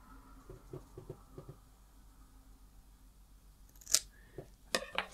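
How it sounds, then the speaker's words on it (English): Scissors snip a strip of exposed colour film, a few quick close clicks and sharp cuts in a quiet room. "step number two is to cut a strip from our exposed color film"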